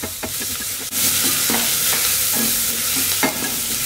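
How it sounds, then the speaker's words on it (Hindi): Onions sautéing in a pressure cooker for pav bhaji, a dense close sizzle with a few sharp stirring scrapes and knocks of a spoon, no talking. "प्याज थोड़ा सा भूनेंगे।"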